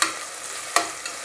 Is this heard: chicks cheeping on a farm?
no